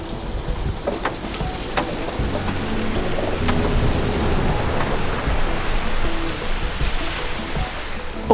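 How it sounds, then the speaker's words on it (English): Ocean swell and waves at an exposed Southern Ocean anchorage, rolling in from the southwest. The surf makes a steady, loud, broadband wash with no voices and small splashes rising and falling throughout. "we were completely exposed to the southwesterly swell that never stops, not even for a moment"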